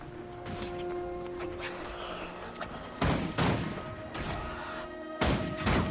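Explosions in the fantasy online game Guild Wars 2 in the Brisban Wildlands: a few sharp blasts, in single and doubled bursts, ring out over a steady hum of game sound.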